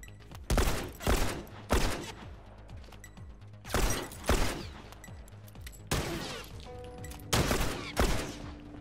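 Sharp sniper rifle shots ring out in a video game, about seven loud cracks in irregular pairs with echoing tails and quiet gaps between them.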